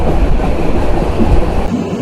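Steady low rumble of the Kurigram Express running at night from Dhaka to Parbatipur, dense rolling noise with faint rhythmic rattling, close and continuous, no voices.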